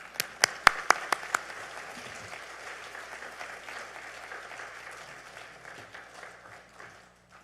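A church congregation applauds to welcome the preacher during a Sunday service, starting with a few sharp, separate claps before swelling into sustained indoor applause that slowly fades away.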